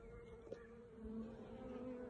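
Honey bees in a Flow Hive buzz in a steady, close drone with a faint higher whine above it, continuous and without any voices.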